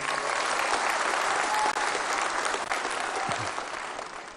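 Sustained, dense applause from a large audience at a political party's 25th anniversary celebration, steady and loud throughout before tapering slightly near the end.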